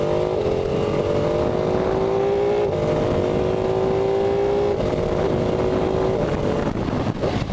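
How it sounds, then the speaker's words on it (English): A 2016 Ducati 959 Panigale accelerates hard with quick-shifter upshifts on a highway, its engine note climbing and then dropping at each of several quick gear changes, loud and close under constant wind roar. "It does have a quick shifter on it, on the up shifts only"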